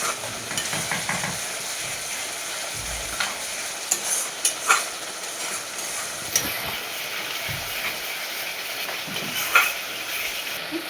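Spice paste frying in oil for bhetki fish kalia, a steady soft sizzle with occasional stirring scrapes and small pops, fairly close and without talk.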